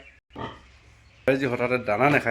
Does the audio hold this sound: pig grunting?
yes